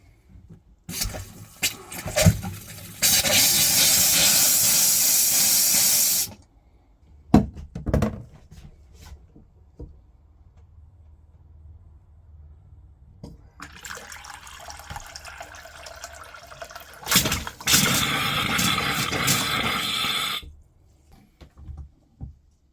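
Water drains from the hot taps of a caravan in two long loud gushing runs separated by quiet, with drips and small clunks between.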